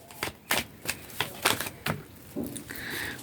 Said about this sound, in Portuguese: Vou tirar mais um conjunto aqui de cartas.